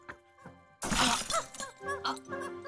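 A glass Christmas ornament shatters in one sudden, loud, bright crash with tinkling fragments, followed by a few quieter clinks and faint vocal sounds.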